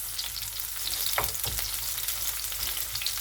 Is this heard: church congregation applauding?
no